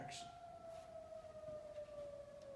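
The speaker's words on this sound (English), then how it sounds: "I got distracted by the sirens going on" A distant siren wails steadily, its tone slowly sliding downward, faint against a quiet background with no one speaking.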